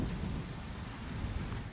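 Rain begins falling outdoors, heard as a faint, steady patter with a soft low rumble beneath it, brief and without voices.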